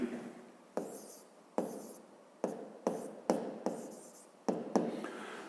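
Chalk or marker writing on a board during a physics lesson, a run of crisp scratchy strokes in short bursts with brief pauses between them, close and fairly quiet, with no voices over them.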